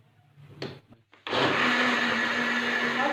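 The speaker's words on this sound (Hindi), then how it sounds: "पहले इन चीज़ों को ब्लेंड करेंगे, उसके बाद बाकी की चीज़ें ऐड करेंगे" An electric blender whirring loudly and steadily as it blends cream and other strawberry-pineapple shake ingredients, starting abruptly after a few brief handling clicks and knocks.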